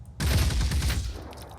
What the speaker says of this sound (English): We're gonna try and get some lucky hits on the infiltrator. Fire away, turret.